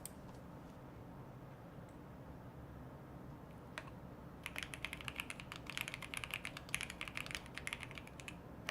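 Typing on a computer keyboard during a coding session, quiet at first with a few isolated clicks, then a busy run of rapid keystrokes for the last few seconds, close and soft.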